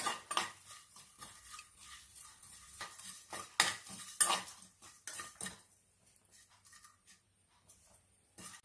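Spices are dry roasted in an old pan for nellikka lehyam. A utensil scrapes and clinks against the pan in irregular bursts, with faint crackles between them, and then everything goes quieter. No one speaks.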